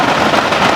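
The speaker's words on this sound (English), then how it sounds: "There goes the rain, guys" Steady outdoor rain, loud and close, a dense continuous hiss of drops pattering on surfaces for a brief moment.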